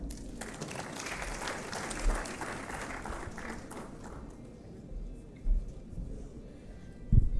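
Audience applauds at an East African Community conference, a sustained broad patter of many hands clapping at moderate distance, swelling and fading with a few louder bursts near the end.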